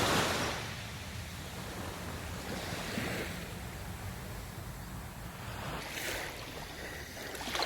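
Waves wash onto a beach on a calmer afternoon after a windy day, a continuous broad surf rush with a soft swell and a brighter splash near the end.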